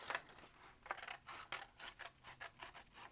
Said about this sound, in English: I'm going to go ahead and cut these out